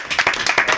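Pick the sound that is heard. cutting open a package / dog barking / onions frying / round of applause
round of applause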